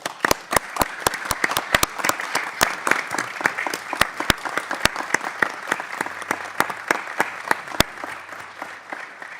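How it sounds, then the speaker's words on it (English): Sharp, uneven claps sound in an official House hearing room, a sparse round of applause from a modest group with sharp individual hand slaps throughout and little talk. "give her a round of applause"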